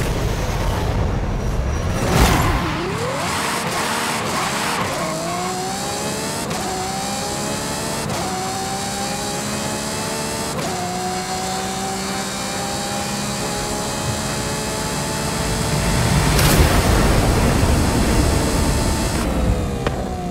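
A 2020 Ferrari Roma driving in Forza Horizon 5, its engine revving up through repeated gear changes with rising pitch sweeps, steady and close, ending in a louder surge.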